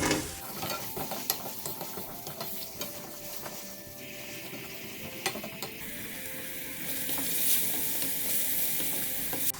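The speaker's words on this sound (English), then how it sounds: "We're going to sweat the onions down a little before we add chopped vegetables to it" Onions soften in a pan with chopped courgette for a vegan curry, a quiet steady sizzle under frequent scrapes and clicks of a spoon stirring, with no voices.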